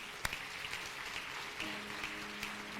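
A church congregation applauds, a faint, steady wash of distant clapping throughout with no clear voices.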